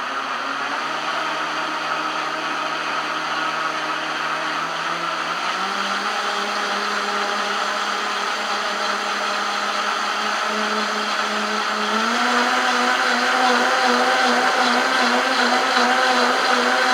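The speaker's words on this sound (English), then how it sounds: "Blend a little bit longer." A blender whirs continuously as it mixes homemade liposomal vitamin C, a loud, steady motor whine close up that shifts pitch slightly a few times as the load changes, with no voices.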